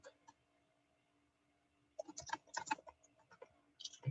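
Fingers type code on a computer keyboard during a JavaScript coding session, a few isolated key taps followed by a quick, irregular burst of close, crisp clicks that trail off into scattered presses.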